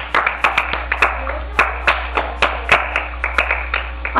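Church congregation clapping for Jesus Christ during an evening service, a steady run of sharp, distinct handclaps about twice a second, fairly close and prominent, with no talk over them.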